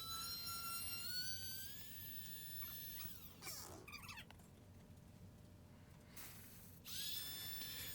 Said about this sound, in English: I finally remembered to get my multi-tool out because it's so much easier than trying to saw it by hand